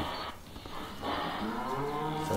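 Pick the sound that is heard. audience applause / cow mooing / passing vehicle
cow mooing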